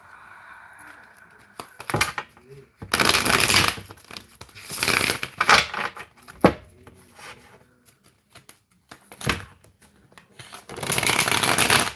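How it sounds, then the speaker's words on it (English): Tarot cards are shuffled by hand nearby in several bursts of crisp riffling and flicking, separated by short quiet pauses and soft handling taps. "Let me shuffle these."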